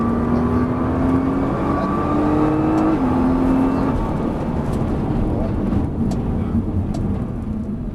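A Nissan GT-R accelerates at a track in Dreux, its engine note climbing in stepped pitch through gear changes before easing off, loud and close with a faint voice in the background.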